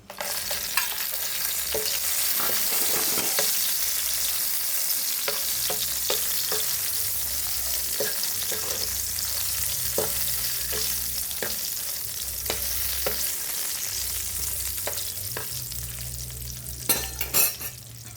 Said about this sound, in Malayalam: ഞാൻ ഈ വറ്റൻമുളക് ഇതിനകത്തോട്ടിടുവാണേ.